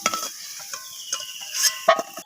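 Fried potatoes are lifted from hot oil with a spatula, giving soft metallic scrapes and clinks over a faint background sizzle, quiet and close.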